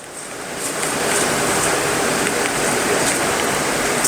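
Water rushes steadily out of a dirty poultry drinker pipeline being flushed in a laying-hen house, a loud, continuous hiss that swells within the first second and then holds.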